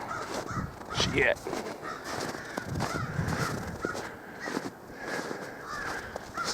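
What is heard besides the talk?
crows cawing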